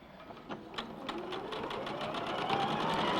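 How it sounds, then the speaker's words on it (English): A sewing machine stitches along a drawn line on a quilt block, its rapid needle rhythm speeding up into a steady whir, close and clear. "I'm sewing on the line this time."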